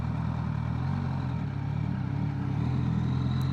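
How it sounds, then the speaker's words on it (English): A Suzuki GSX-S1000GX motorcycle engine holds a steady, loud, low drone with little change in pitch, heard while riding with no talk over it. "let's see if we can feel this increased revs"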